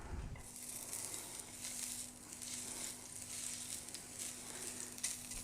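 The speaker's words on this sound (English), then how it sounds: "Okay, so I think that's sizzling enough." Smoked pancetta sizzles and fries in a hot pan, a faint, steady hiss with soft crackles and a low hum beneath, no talking.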